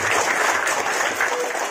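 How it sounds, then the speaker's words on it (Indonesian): An audience at a Quran study school claps for a student, a brief burst of steady close applause with no voices over it. "Beri tepuk tangan untuk adik Nafis."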